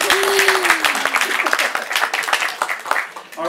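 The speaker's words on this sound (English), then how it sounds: "All right, one more round of applause." A live blues crowd claps in a dense, steady burst, while a voice speaks briefly over the start of the applause.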